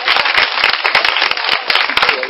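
A church congregation claps loudly and fast in dense, overlapping bursts, acclaiming Jesus Christ, with no voices over the steady applause.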